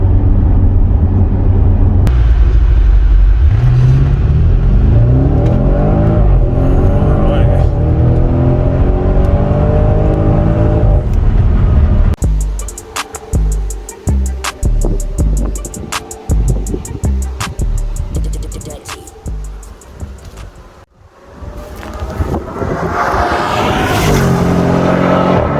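Audi RS6 with a 605 hp engine accelerating hard in dynamic mode, a loud close roar climbing in pitch, then a rapid burst of crackling exhaust pops and rising revs before a sharp upshift and renewed surge.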